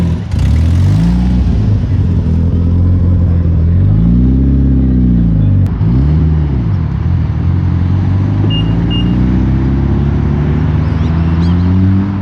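A modified BMW E92 M3 with a turbo setup accelerating hard at a car meet, its engine note rising and falling in loud sweeping pitch bends over steady background crowd noise.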